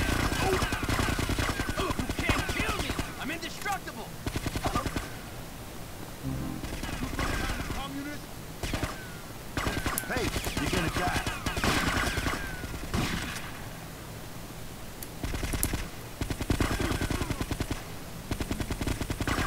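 Dense video-game gunfire from GTA: Vice City Stories, with sustained loud automatic bursts and short pauses over about twenty seconds, close and harsh, with voices mixed in.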